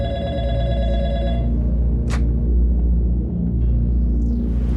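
A telephone rings out over a steady low rumble, its bell-like tone repeating for the first second and a half before stopping, followed by a short sharp click and then faint tones near the end.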